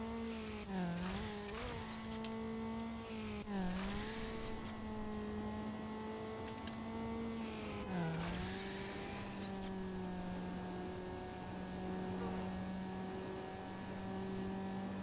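A car engine in the Need for Speed Underground racing game on PlayStation 2 revs hard with VTEC kicking in, a steady high engine drone with pitch dips at gear shifts, loud and continuous.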